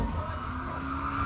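A drift car with its exhaust removed skids continuously, with sustained tire squeal and a raw engine roar filling the whole moment at steady loudness, no voices.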